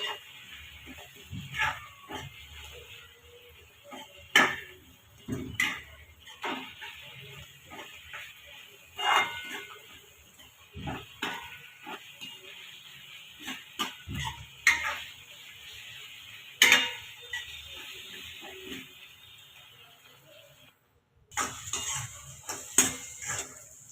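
Spoon scraping and clinking in a pot while spiced rice with fenugreek is stirred, irregular close knocks and scrapes with quiet pauses between.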